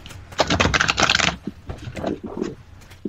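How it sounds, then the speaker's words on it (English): Cards are shuffled in a quick riffle of dense crisp flutters, followed by lighter scattered snaps and taps, close and fairly loud with no talking. "Sorry, James, I'm shuffling my cards."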